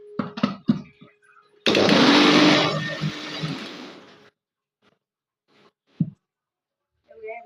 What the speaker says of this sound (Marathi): परत दोन मिनटं मिक्सरला फिरवायचं